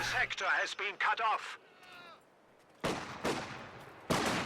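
Gunfire from a sniper and advancing grenadiers crackles in a video game battle, with a couple of sharp bursts standing out beneath steady voice commentary.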